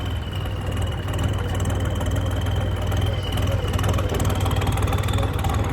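Steady low rumble of a tractor engine idling at low revs, continuous and even throughout, with a faint voice underneath.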